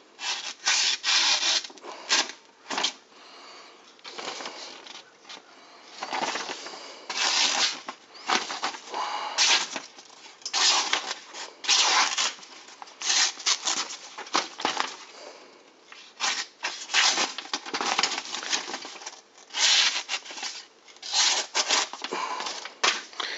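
A knife tears through material in rough rasping bursts with irregular strokes, close and fairly loud, with short gaps between cuts.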